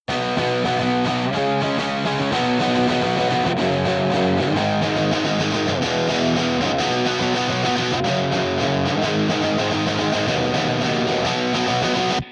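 A dense, fizzy distorted electric guitar through Logic's stock Amp Designer plays a pop punk part continuously and loudly, its buzzy amp-simulated tone filling the space without pause.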